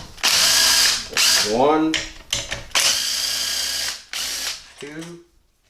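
A power driver whirs in loud repeated bursts, spinning out inverted Torx Plus bolts from a GM 6L80-E automatic transmission, with ratcheting pauses between runs and someone briefly speaking close by.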